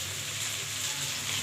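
Onions, potatoes and green chillies sizzle in hot oil in a pan, a steady even hiss with soft crackles, close and fairly quiet, heard alone for a brief moment.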